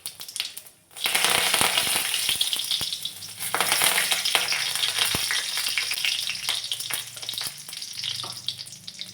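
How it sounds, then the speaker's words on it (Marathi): Cumin seeds and curry leaves hit hot oil in a wok (kadhai) for a home-cooked patwadi rassa curry, bursting into a loud, steady close-up sizzle after a brief pause, with scattered crackles and no talking. "तेल तापल्यानंतर त्यामध्ये जिरे आणि कढीपत्ता घातला"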